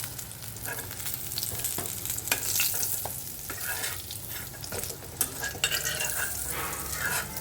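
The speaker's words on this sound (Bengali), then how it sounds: "উল্টে পাল্টে মাছগুলো ভেজে নেব" Pieces of katla fish fry in hot oil in a pan, a steady close sizzle with occasional scrapes and clinks as they are turned over.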